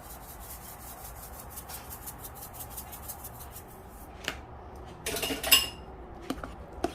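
Potatoes for Thanksgiving being mixed with a utensil give soft scraping and rubbing strokes against the pot, quiet at first and then a louder burst of clattering scrapes toward the end.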